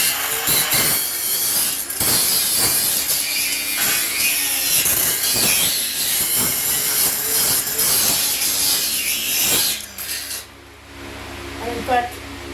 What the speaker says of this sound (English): This is my third disc to get into the weld enough to be able to get this off.